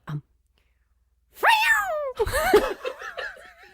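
A person's voice imitates an F1 racing car, a rising, whining engine sound warbling up and down in pitch, after a short click and a pause.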